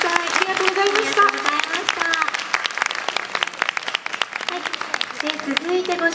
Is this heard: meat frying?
no